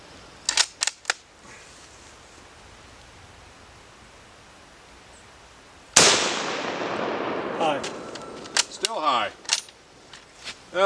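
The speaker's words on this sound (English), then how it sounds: "Never shot this gun before today" A Carl Gustav 1896 Mauser rifle fires outdoors with a sharp, loud single gunshot whose report rings out and decays over several seconds, followed by metallic bolt-action clicks and clacks as the rifle is cycled.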